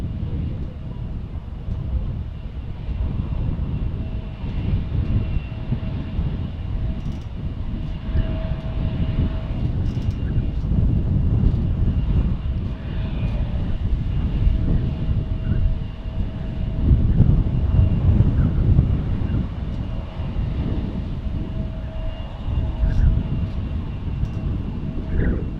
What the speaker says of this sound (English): Believe that is a Dreamliner arriving in from Barcelona.